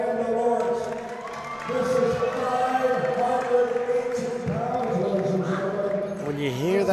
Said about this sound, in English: Crowd cheers as the reigning world champion takes to the platform.